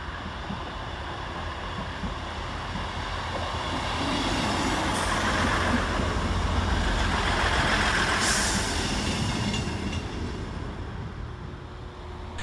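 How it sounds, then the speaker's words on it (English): A Northern Rail class 158 diesel train pulls into Halifax station, its engine a loud, steady rumble that swells and fades gently over several seconds, with a brief hiss of brakes near the end and no talking. "Arriving to terminate with a Northern service from Hull"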